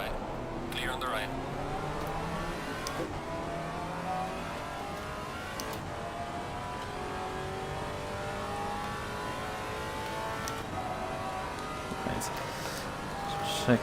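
A GT4 race car passing on the right at Misano in Assetto Corsa Competizione, engine droning and revving with shifting pitch through gear changes, steady and moderately loud, heard from a Maserati GT4's cockpit.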